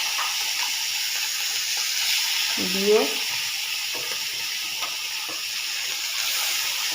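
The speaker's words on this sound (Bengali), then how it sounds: "কড়াইতে তেল দিয়ে দিয়েছি, গরম হয়ে গেছে, দিয়ে দিলাম চিংড়ি মাছ" Small pond shrimp hit hot oil in a karahi with a steady, close sizzle and hiss; a voice briefly speaks over the frying.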